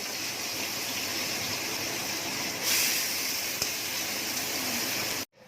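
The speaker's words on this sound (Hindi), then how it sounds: "अब इसमें चावल डालेंगे हम लोग फ्राई करने के लिए।" Rice tipped into hot tempered oil for a baghar while making mutton aloo gosht, giving a steady broadband hiss and sizzle that swells louder midway, with a brief click, then cuts off abruptly.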